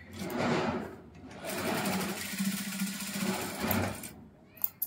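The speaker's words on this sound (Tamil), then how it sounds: "இந்த பிளவுஸ் வந்து நான் உங்களுக்கு தைச்சு காமிச்சிட்டு இருக்கேன்" A sewing machine stitches a lined cotton blouse in close, whirring runs. It stops and restarts between bursts, and a few sharp clicks come at the end.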